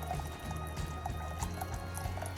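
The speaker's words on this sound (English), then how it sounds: "So I'm going to pour this boiling water in here," Boiling water pours from a pot into a Primo water dispenser tank, a steady continuous liquid trickle and splash lasting the whole moment, close by, with no talking.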